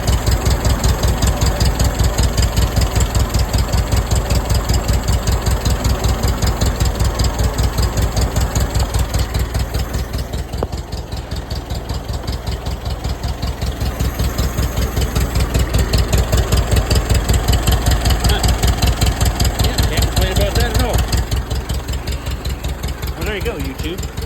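An old tractor bought for $300 runs steadily close by, its engine idling with an even, rapid mechanical beat and a slight knock throughout, the level dipping briefly about halfway through.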